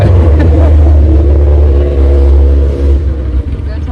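A motorcycle passes by with a loud, close engine drone that swells and then fades slightly toward the end, with people talking over it.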